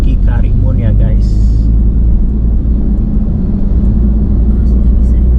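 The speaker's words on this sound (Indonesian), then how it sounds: "mobil yang kita gunakan ini adalah mobil Suzuki Karimun ya guys" A Suzuki Karimun Wagon R travels a coastal road in southern Lampung, its cabin filled with a loud, steady low rumble of engine and tires while people talk inside.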